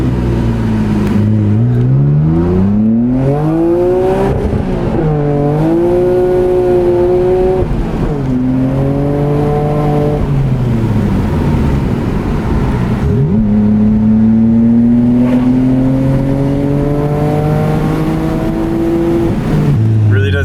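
A four-door Nissan Skyline R32 with an RB26 engine revs up and down repeatedly, its pitch climbing and falling in long sweeps, loud and close with a throaty rumble.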